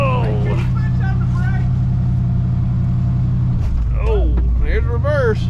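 A 1963 Mercury Comet 260 V8 idles steadily with a deep low rumble, dipping and shifting in tone as it is put into gear. Voices talk over the engine.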